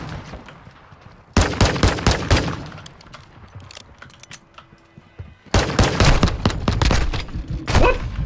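Video game gunfire: loud rapid bursts of automatic shots in two long volleys separated by a quieter lull with scattered single shots, close and sharp, with no talking.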